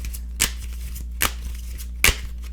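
A tarot card deck being shuffled by hand, with three separate crisp riffling bursts close up over a steady low hum and no talk.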